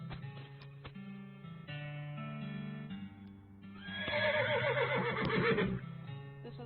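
A horse in a Western-style video game gives a loud, drawn-out neigh with a shaking whinny near the middle, set against a steady musical background and a few hoof clops.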